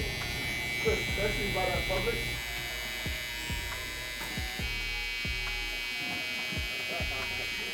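Electric hair clippers buzz steadily close by while lining up a mustache on a man with dense facial hair in a barbershop, the motor hum broken by short cutting strokes as someone talks over it.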